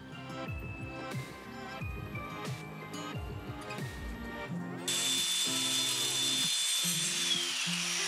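A power tool trims protruding bricks while a cellar's north wall is rebuilt. Short whirring bursts that spin up and down give way to a sustained, harsh grinding cut that runs to the end, fairly close. No voices.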